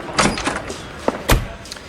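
A door being burst open during a police raid in the L.A. Noire video game: a few heavy thumps and bangs, with a sharp crash near the end, loud and close.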